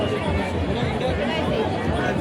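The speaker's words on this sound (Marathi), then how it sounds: "हे बघा इथे गर्दी किती आहे." Crowd babble fills the Bhimthadi fair grounds, a thick unbroken hubbub of many nearby voices talking at once.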